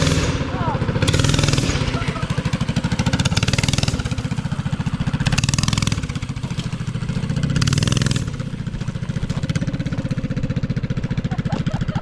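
A Predator 212 mini bike engine idles with a rough, rapid chugging pulse that swells now and then in short throttle bursts, loud and close, with people speaking nearby.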